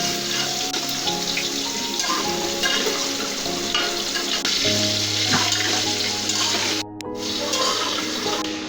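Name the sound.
vegetables frying and being stirred with spices and green chillies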